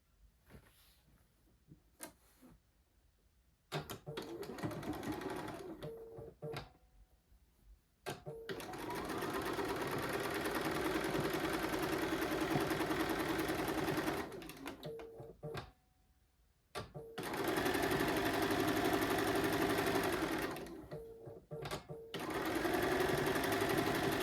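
Sewing machine piecing a quilt block, close-up bursts of fast rhythmic stitching separated by short quiet pauses, the runs lengthening into sustained stretches toward the end.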